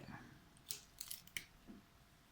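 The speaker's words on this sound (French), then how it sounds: "Je vais couper la gaine juste en dessous pour m'en assurer." Scissors cut the sheath of a plant stem in a few faint, crisp snips spaced close together in a quiet setting.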